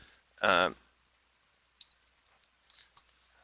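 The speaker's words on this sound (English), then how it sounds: "I would just click on category 1 and type in" Faint mouse clicks and light computer keyboard typing, a sparse scatter of soft ticks after a brief burst of speech at the start.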